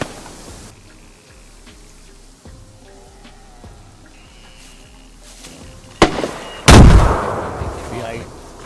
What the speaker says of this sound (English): He's shooting at me with that.